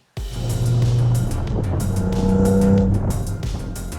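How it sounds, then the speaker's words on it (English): A 2023 Cadillac CT4-V Blackwing sports sedan drives close by with a loud, steady engine note that swells and shifts pitch over a few seconds, with no talking. "here we have the 2023 Cadillac CT4-V Blackwing."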